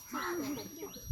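A child at a Sunday school vocally imitates a lion's roar, a short, close, strained growling cry lasting about a second.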